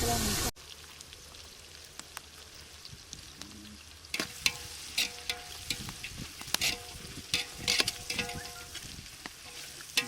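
Onions frying for water-style chicken biryani crackle and sizzle in a pan, a steady soft hiss with irregular sharp pops growing busier after a few seconds, close and fairly quiet.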